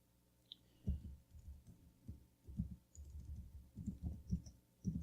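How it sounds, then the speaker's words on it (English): Computer keyboard typed on while coding a Minetest mod, giving quiet, irregular clusters of soft key clicks and thumps close by, with short pauses between bursts. "I should not be typing whilst speaking"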